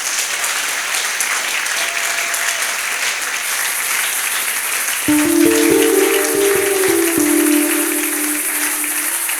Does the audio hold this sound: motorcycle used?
no